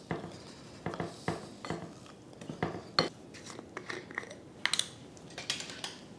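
A spoon stirring softened cream cheese into an appetizer mix in a bowl, giving repeated light clinks and scrapes in an uneven rhythm, close and fairly quiet.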